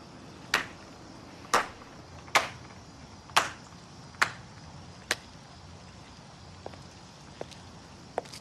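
A slow clap of about nine sharp, isolated hand claps spaced roughly a second apart, strong at first and growing fainter and quicker toward the end, with no talking.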